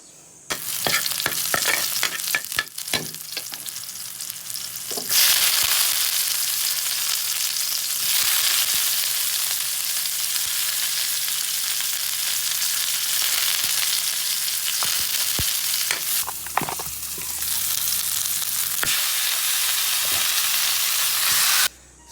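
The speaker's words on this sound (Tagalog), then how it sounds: "ginggisa na natin yung karne" Meat sizzles loudly in a frying pan as it is sautéed, a continuous hiss broken at times by stirring and scraping, close and steady with no talking.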